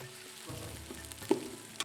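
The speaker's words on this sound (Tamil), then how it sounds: "வெங்காயம் ஃபிஃப்டி பர்சன்ட் வதங்கியிருக்கு" Onions half-cooked and softly sautéing in a pan for chicken curry, a faint steady sizzle broken by a couple of brief utensil clinks, close by with no voices.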